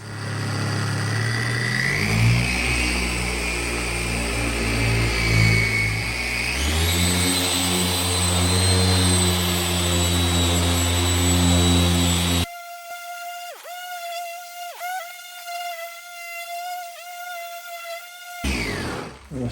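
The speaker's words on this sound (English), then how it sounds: "I'm just going to run the buffer on the hood here" A polishing buffer with a hard pad runs on the hood of a John Deere D120 lawn tractor, a loud steady motor whine that shifts pitch as pressure changes, then cuts to a quieter tonal hum.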